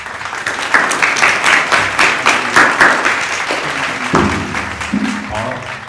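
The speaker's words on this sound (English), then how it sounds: "Can we give a warm round of applause to Carl and Claire?" An audience applauds guests from a German cabaret act, loud energetic clapping with distinct individual claps in an uneven rhythm, fading as a voice begins speaking toward the end.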